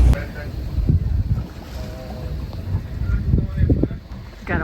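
Water sloshes against the hull of a sailboat rolling in Caribbean swell, with irregular low splashes and gusts of wind rumbling across the microphone.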